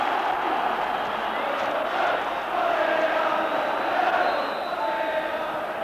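A stadium crowd of about 50,000 at a Rangers v Hearts Scottish Cup semi-final fills the air with a dense, continuous roar of cheering and chanting, steady and loud throughout with no break.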